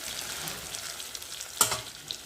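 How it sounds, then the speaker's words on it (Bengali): A spice mixture sizzles quietly in a pan while being stirred for an egg curry, with soft scraping and a brief louder stir-and-crackle midway through the gentle frying hiss. "ভালো করে আমি মশলাটাকে মিশিয়ে নিচ্ছি।"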